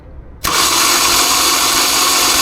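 After a brief quiet moment, a car engine with low compression cranks and catches, then settles into a loud, steady running roar.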